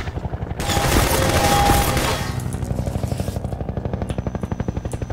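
A loud, dense burst of automatic gunfire in a Half-Life 2 mod clatters for a couple of seconds, then gives way to quicker, lighter rapid shots in a steady rhythm.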